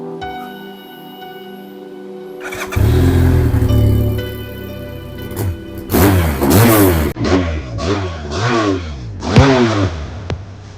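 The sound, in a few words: motorcycle engine running and revving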